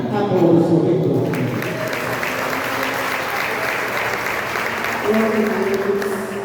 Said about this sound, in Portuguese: Aplauda o seu reitor.